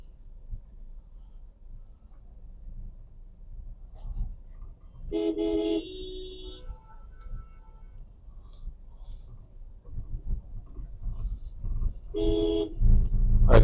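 Car horns honk in Jaipur morning traffic, two short bursts several seconds apart over a low rumble of passing vehicles, fairly near.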